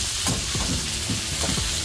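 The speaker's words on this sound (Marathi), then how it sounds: "उभी चिरलेली शिमला मिरची छान तेलात फ्राय करून घ्यायचं सगळं।" Strips of capsicum fry in hot oil with a loud, continuous sizzle, punctuated by a few short stirring scrapes.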